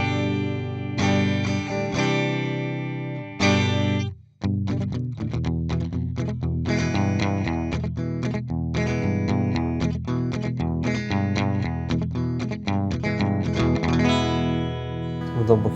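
Electric guitar through a Valeton GP-5 multi-effects unit set to a clean Fender '65 Twin Reverb amp model, strummed in ringing chords and sustained notes, loud and close, with one brief pause partway through.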